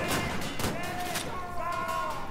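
Gunfire in the video game Wolfenstein: The New Order, sharp shots bursting out amid a busy, noisy game mix with tonal effects.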